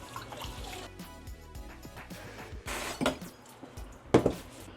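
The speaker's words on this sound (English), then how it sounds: "we're gonna wash and rinse" White rice is washed and rinsed in a pot of water, with sloshing, trickling and pouring plus a few sharp knocks against the pot, close by.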